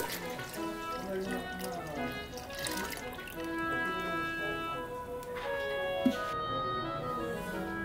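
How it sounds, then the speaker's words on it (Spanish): Whole milk is poured from a gallon jug into a Ninja Foodi multicooker, a continuous, fairly quiet liquid gurgle and splash with a faint clink partway through. "Agregamos la leche. Yo usaré todo el galón de leche entera,"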